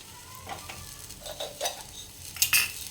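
A panchmel handvo, a savoury mixed-lentil cake, is flipped in a hot pan with a spatula, giving a few scraping metal clinks over soft sizzling frying.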